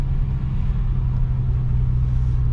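BMW M6 with its V10 engine rumbling steadily close by, a deep even drone holding a constant pitch with no revving or other sounds.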